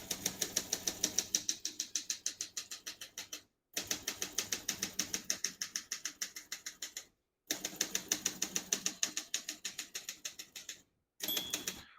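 Rapid, even clacking of a 1972 Olympia SM9 manual portable typewriter in three long runs of keystrokes, each broken by a short pause, close and crisp.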